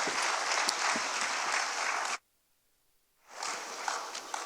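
Loud crowd applause at a non-oil export summit, cutting off abruptly for about a second of silence and then rising again into steady clapping.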